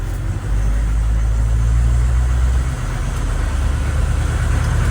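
A 1986 AM General HMMWV Humvee on the move, a steady low engine drone and road rumble heard from inside the cabin, loud and continuous with a slight dip in pitch midway.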